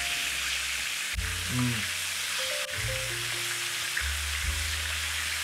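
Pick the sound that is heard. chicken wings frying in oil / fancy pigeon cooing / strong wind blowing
chicken wings frying in oil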